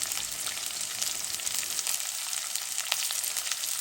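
Garlic, onion and whole green chillies sizzle steadily in hot oil in a pan, a continuous close crackling hiss with no talking.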